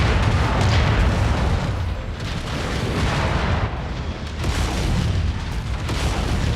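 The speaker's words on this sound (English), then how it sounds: "Incoming missile." Continuous heavy booming from missile explosions in MechWarrior 5: Mercenaries, a dense, loud rumble of overlapping blasts with no pauses, swelling and dipping over several seconds.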